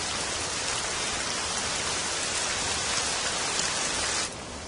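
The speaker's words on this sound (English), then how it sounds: "By morning, rain is falling steadily." Steady wet-season rain falls in the wild, a dense, even hiss of drops on surfaces that continues unbroken and fairly loud before easing slightly at the end, with no voices.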